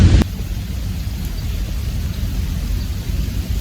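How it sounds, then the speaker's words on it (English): Heavy rain in a storm in Austin, Texas, a loud burst at the start dropping into a steady, dense hiss of rainfall that continues without a break. "I'm just sitting here waiting for the rain to stop."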